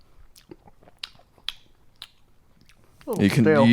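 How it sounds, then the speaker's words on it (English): Pringles potato chips eaten right into a microphone, a few sharp crunchy bites spaced about half a second apart, close and dry, followed by a voice speaking. "That's those Pringles he's eating."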